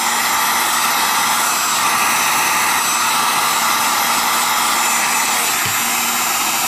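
A heat gun blows continuously while reheating a leather sheath to soften it for fitting, producing a loud, steady, close-up whooshing roar with a faint motor hum that barely changes throughout.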